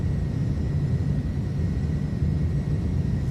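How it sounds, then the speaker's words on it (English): In Microsoft Flight Simulator, an iniBuilds Airbus A310's jet engines run at takeoff power, giving a steady, loud, dense roar that holds evenly throughout without any voices. "Takeoff power is set."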